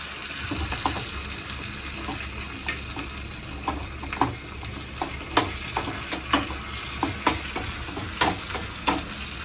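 Onions and curry leaves fry in a pan during home cooking, with a steady hiss of sizzling oil and a series of sharp clinks and scrapes from stirring that grow more frequent and louder toward the end.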